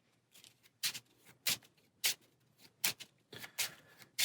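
A deck of board game cards is shuffled at close range, a run of crisp riffling bursts in an uneven rhythm against a quiet background.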